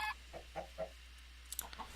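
Minecraft chicken clucking in a video game, a few short soft clucks spaced across a couple of seconds, faint and alone over a low steady hum.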